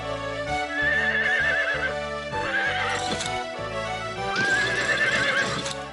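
A cartoon horse whinnies in long, wavering neighs while its hooves keep up a steady clip-clop, all set over a continuous musical score. No speech is heard.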